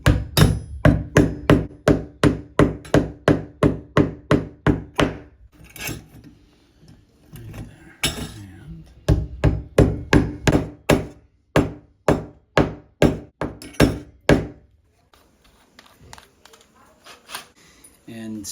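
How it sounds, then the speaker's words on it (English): Screws are driven through a grab bar into wood behind tile in a shower, with loud, close, rapid rhythmic clattering in repeated bursts separated by short pauses and quieter handling sounds. "I'm just going to put screws straight through these holes into the wood that's back there."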